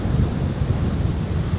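Sea waves at Groudle Glen on the Isle of Man churn in a continuous low roar with a broad hiss, close and steady, mixed with wind buffeting against the microphone.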